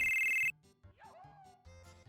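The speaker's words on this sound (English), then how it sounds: "Phone call." A telephone rings briefly in Final Fantasy VII, a bright electronic ring that cuts off and gives way to quieter game music and sound effects.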